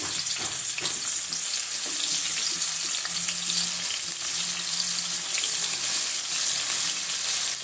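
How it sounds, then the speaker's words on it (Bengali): Continuous dense sizzling of bottle gourd and radish lightly frying in hot oil, loud and close, with faint clinks underneath and no talking. "আমি এখন এগুলাকে হালকা করে ভেজে নেবো"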